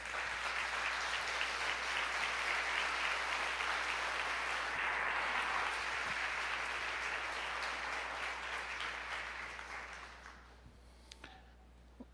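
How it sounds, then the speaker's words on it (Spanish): Church congregation applauding at a Sunday service, a dense sustained wash of many hands clapping that fades out over the last couple of seconds, leaving near silence. "dale un aplauso al Señor"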